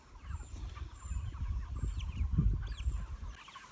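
Chickens, including a small slow-growing bird, cluck and murmur low and close in a continuous muttering, with faint higher calls and wind-like background noise around them.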